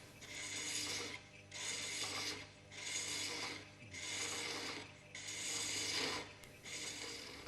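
Hand thread cutting along a spigot, taking full passes to raise fine shavings: five steady rasping strokes, each lasting about a second with brief pauses between, close and moderately loud, with no voices.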